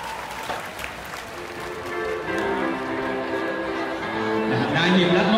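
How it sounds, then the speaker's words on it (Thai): A crowd claps in a steady patter of applause that grows louder toward the end, with a voice speaking Thai over it, welcoming a gold-medal skateboarder at an award ceremony. "ขอเสียงปรบมือต้อนรับ"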